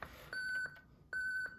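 Two short electronic beeps from a smart bike helmet, each a steady high tone lasting about a third of a second, separated by a brief pause, fairly quiet.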